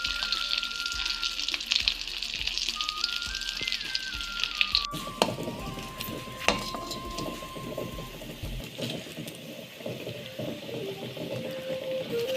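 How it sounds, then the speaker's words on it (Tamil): Vegetable cutlets sizzle steadily in hot oil, a dense continuous crackle and hiss throughout, with a faint electronic tone running under the first half. "கட்லெட் வந்து நல்ல எண்ணெயில் வேகட்டும்"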